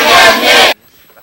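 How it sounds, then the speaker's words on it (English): A crowd at a live Chicago talent showcase roars with loud, dense cheering and yelling for under a second, then cuts off abruptly to near silence. "Let me hear the crowd."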